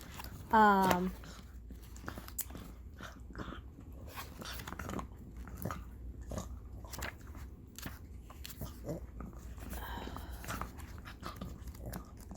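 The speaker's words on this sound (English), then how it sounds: "He's gonna show you his chew bone." A dog gnaws on a chew bone at close range, making irregular clicking bites and crunches while a person talks over it.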